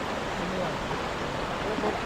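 Forceful water of the flooding Kaveri river in Mysore rushes in a steady, dense roar that fills the whole clip at close range, unbroken and without any voices.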